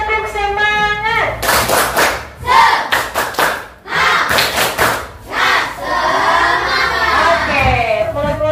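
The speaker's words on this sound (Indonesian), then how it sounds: "ayo tepuk semangat" Schoolchildren in a classroom doing a rhythmic spirit clap, with bursts of sharp unison claps alternating with loud chanted shouts and singsong group voices, close and energetic.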